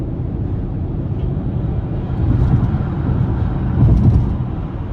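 Steady road noise heard from inside a 2023 Lincoln Corsair Plug-In Hybrid Grand Touring 2.5H cruising on the interstate: a constant low rumble and tire roar that swells slightly, with no voices.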